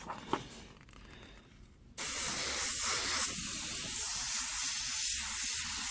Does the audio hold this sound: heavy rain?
no